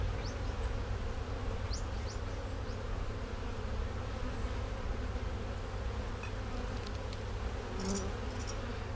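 Honey bees buzz in a dense, continuous drone around an open hive in a backyard apiary, a steady close swarm hum with no voices over it.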